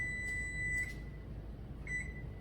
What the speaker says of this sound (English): See if I can end that timer.